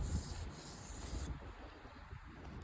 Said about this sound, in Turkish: Bunları zımparalayacağım.